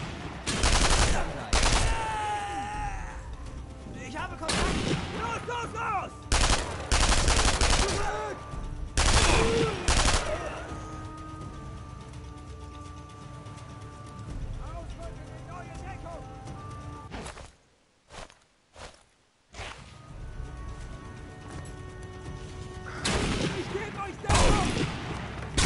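Rifle and machine gun fire in the animated series Archer, loud repeated bursts of shots spread through the clip with a brief quiet gap, heard alongside voices speaking.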